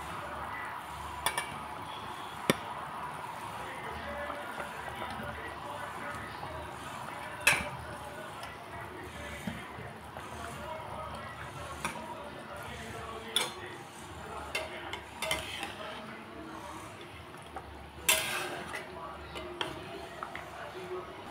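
Singi fish going into a simmering curry with pointed gourd and potato, then stirred in the pot: soft bubbling and occasional utensil clinks against the pot, fairly quiet, with no talk.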